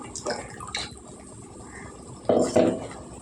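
Water splashes and trickles into a pan for a soy-chunk gravy curry in two short bursts, a liquid pouring sound close by with quiet gaps between.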